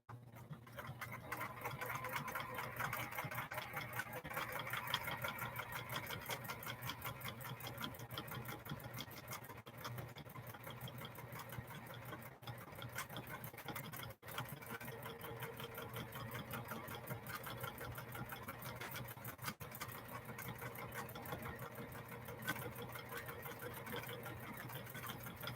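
A domestic sewing machine quilting a flowing feather pattern runs without pause, a soft, even mechanical whir with a fine rapid patter of stitching throughout.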